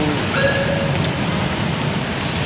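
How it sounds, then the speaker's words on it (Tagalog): Continuous rumble from inside a moving LRT light rail car in Ortigas, with a steady low roar and faint high squeals from the wheels on the track. "Sakay ako ngayon ng LRT."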